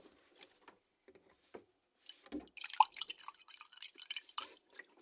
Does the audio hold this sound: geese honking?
no